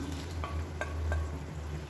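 Fried brinjal pieces tipped into a boiling tomato gravy and stirred, giving soft bubbling and a few faint scraping clinks over a steady low simmer rumble, close and quiet with no talk.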